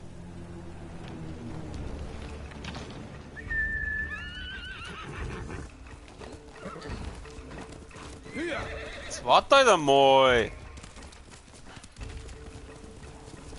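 A horse whinnies and neighs in Ghost of Tsushima, with hoofbeats clip-clopping through the scene; a sharp, loud neigh bursts out near the end over game music while someone talks briefly.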